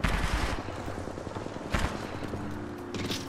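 Rapid video-game gunfire crackles in a dense, busy mix with a loud burst near the middle and more shots toward the end, other teams' fire layered over the player's own.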